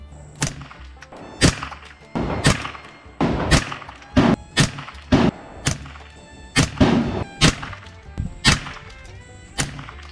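Repeated unsuppressed gunshots from CCI standard velocity ammunition, about a dozen sharp cracks fired at a steady, unhurried pace, loud and close, each shot ending in a short thud.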